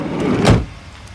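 The power door lock of a 1998 Ford Windstar minivan engages with a single quick, solid thunk, close by and alone.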